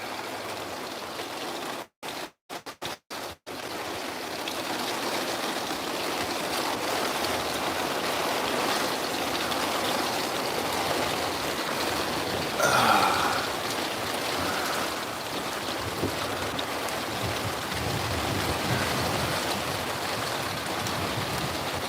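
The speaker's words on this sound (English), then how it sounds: "it suddenly started raining, and I have needed rain really bad" Sudden rain falls steadily outside on a hot day, a continuous hiss of drops on surfaces with no speech, after a few brief dropouts at the start.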